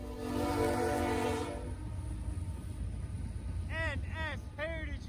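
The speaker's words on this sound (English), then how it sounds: "NS 8100, a heritage unit, leading on a CSX train paired with a CN SD75i" Norfolk Southern NS 8100, a heritage-unit locomotive leading a CSX train paired with a CN SD75i, blasts a loud, sustained horn over a heavy rumble of the passing train, then someone talks briefly over the rolling noise.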